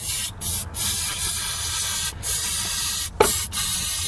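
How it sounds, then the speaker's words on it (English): Ether sprayed from a broken aerosol can down the intake throat of a junk Nissan Primera's SR20DE engine, in several sharp hissing bursts separated by short pauses, close and loud. "So, I'll just spray shitloads of it down the throat again."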